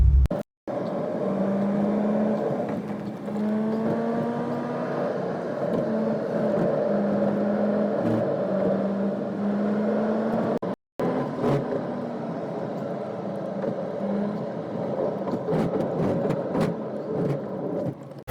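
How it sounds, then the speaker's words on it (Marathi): Cars crawling slowly through heavy road traffic in Mumbai, a steady droning engine hum with a faint whine that stays close and continuous for the whole stretch. "आता कुठेतरी गाड्या स्लो मुव्हिंग चालू झाल्या."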